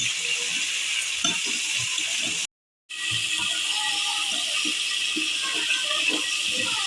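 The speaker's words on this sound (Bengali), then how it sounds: "বন্ধুরা কি সুন্দর লাল লাল সিম ভাজা হয়েছে।" Flat beans sizzle in hot oil in a pan, a steady bright hiss with small pops and crackles throughout, briefly cut off midway before resuming.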